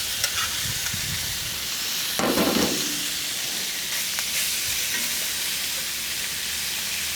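Bacon pieces fry in a pan with a continuous crackling sizzle, and a louder burst of stirring or scraping comes around the middle. No voices are heard.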